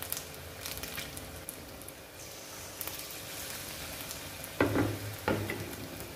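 Bajji and pakoda frying in hot oil, a steady soft sizzle throughout with a couple of brief louder bursts near the end, no talking.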